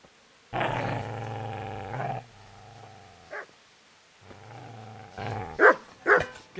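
Dog growling in low rumbling bursts, a long sustained snarl followed by shorter growls and a couple of sharp barking yelps toward the end, close and fairly loud with no talk.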